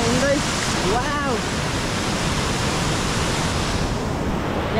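Continuous roar of rushing water from a waterfall and river in Rasuwa, Nepal, a loud broadband wash with a brief whistle-like call early on.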